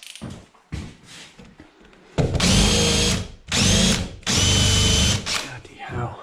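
Power drill with a 20mm hole saw cutting through metal saddles and conduit: several short bursts, then three longer loud grinding runs, with brief pauses between them and voices talking in the gaps.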